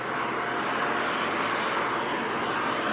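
Aircraft flying at the 1995 Biggin Hill Battle of Britain airshow, a steady, loud, continuous engine roar sustained for the whole stretch.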